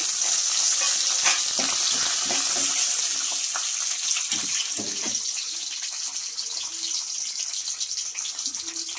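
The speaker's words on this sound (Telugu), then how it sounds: "అవి కొంచెం గోల్డెన్ బ్రౌన్ కలర్ వచ్చేంత వరకు వేసుకున్నామండి." Chana dal and urad dal fry in hot oil toward golden brown for a yogurt curry, giving a steady bright sizzle with scattered crackles and stirring that eases slightly as it goes on, close and without talk.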